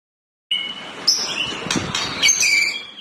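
A white-rumped shama, the contest songbird known as murai batu, sings a clear run of whistled, varied phrases and chirps that starts abruptly after a half-second of silence and continues strongly, with no talking.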